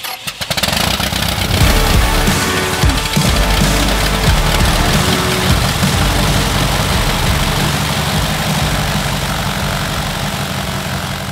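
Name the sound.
aircraft engine starting for the first time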